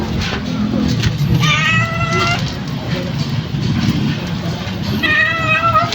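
A cat meows in two clear drawn-out cries, the first early and the second near the end, close and fairly loud with quiet household background between them.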